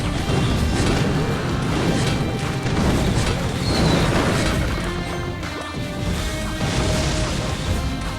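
The Earthquake spell in the Clash Royale video game rumbles with heavy crashes and thuds over a continuous loud game mix, with impacts and booms repeating throughout.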